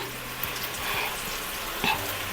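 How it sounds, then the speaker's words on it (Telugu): Chicken 65 frying in a pan of hot oil gives a steady, moderate sizzle with faint bubbling and a couple of brief clinks, no voices over it. "ఫైవ్ మినిట్స్ ఇలా ఫ్రై చేసుకుందాం"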